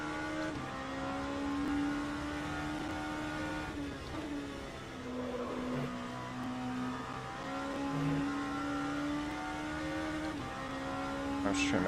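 GTE race cars in the rFactor racing game drone through a Le Mans endurance race, their engines holding steady pitch and then shifting as they accelerate and lift, with voices talking over them.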